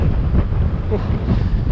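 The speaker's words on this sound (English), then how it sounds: "And there's that famous Winnipeg wind." Strong wind in Winnipeg buffets the microphone in a steady low roar, loud and continuous throughout.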